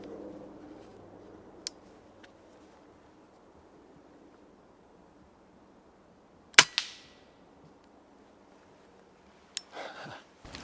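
Quiet oak woodland ambience with a few sharp, close airgun shots at a squirrel, one louder crack followed by rustling, then another short shot near the end.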